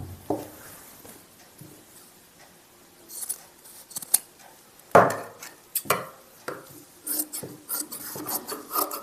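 Scissors snipping through the fabric of a salwar pocket, a series of short, irregular rasping cuts with brief pauses, close by, with no talk.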